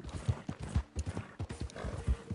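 Horse hooves clip-clop in a steady, fairly close rhythm in the Red Dead Redemption 2 video game, several quick beats repeating evenly with no talk over them.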